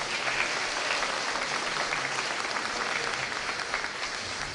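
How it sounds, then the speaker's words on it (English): A room of people applauds at a Memorial Day celebration: dense, continuous clapping that stays evenly loud from start to finish, with no talking on top. "And I just wanted to recognize Lori, so if we give her a round of applause."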